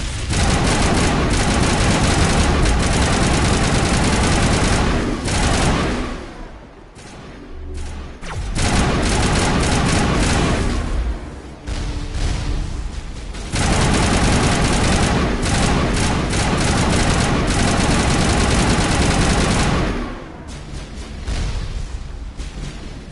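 A turret in Mass Effect fires in long, loud, sustained bursts of heavy automatic fire, broken by short pauses and rolling booms, with no talk over it.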